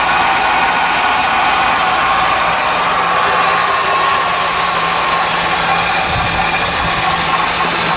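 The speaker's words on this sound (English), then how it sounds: "The hell is that noise? Transmission pump sucking up fluid." Cadillac transmission pump priming itself and sucking up fluid, a steady loud whirring hum with a hissing airy texture that holds constant throughout, alone without voices.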